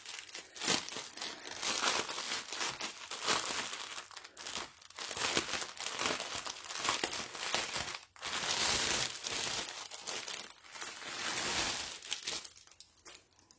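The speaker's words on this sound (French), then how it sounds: "On va ouvrir le sachet." A plastic sachet of diamond painting beads is torn open and handled, with loud, continuous close-up crinkling and crumpling that runs throughout and is broken only by a few brief pauses.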